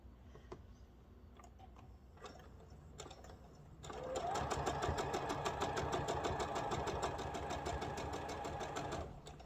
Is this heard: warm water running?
no